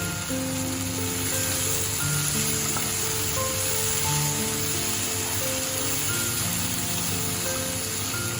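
Torn green chilies sizzle loudly and steadily in a frying pan of okra with mustard-poppy paste, a dense continuous crackle with no voices.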